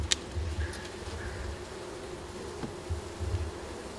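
Honeybees buzzing around a frame of honey during a ranch honey harvest, a steady close drone with individual bees passing by, moderately quiet, without talking.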